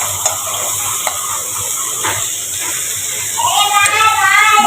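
Spice paste frying in a pan for a village-style pangas fish head curry with Malabar spinach gives a steady close sizzle and hiss that swells louder toward the end.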